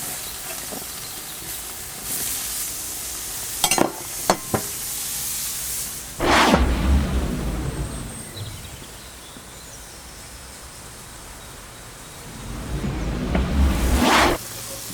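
Half-pound burgers sizzle steadily on a Weber Q gas grill, a soft continuous hiss that swells louder in two bursts, with a few sharp clicks and scrapes of handling early on and no talk.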